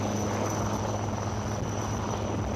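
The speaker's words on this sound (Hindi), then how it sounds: "The helicopters are carrying highly trained quick action team tasked to slither behind enemy lines" Military helicopters fly over the NCC rally at Cariappa Ground in New Delhi, a steady loud rotor and engine drone that fills the whole stretch without a break.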